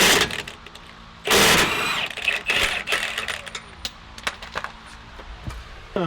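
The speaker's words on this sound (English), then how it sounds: "I like to pull on the axle a little bit and then hit the gun." An impact gun works on a Nissan 350Z rear axle in a garage, firing in loud rattling bursts separated by clanks and scraping noises.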